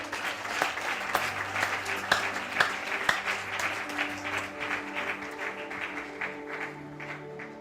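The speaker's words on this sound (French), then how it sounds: "S'il vous plaît, applaudissez pour elle." At a Christmas celebration, an audience applauds a choir singer named Gracie as she is introduced. The clapping is moderate and steady, with distinct individual claps standing out, and a sustained low hum runs beneath it.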